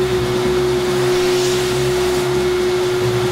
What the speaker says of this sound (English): This sound like toilet vacuum.